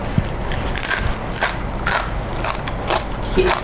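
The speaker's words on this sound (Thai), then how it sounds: "สัมผัสได้ว่ามีความนุ่มแต่ กรอบ เราขอชิมเพื่ออธิบายก่อนเลยนะคะ" Crispy fried skin crunches as it is bitten and chewed, giving repeated sharp crackling bursts against a dense close-up background of crunching.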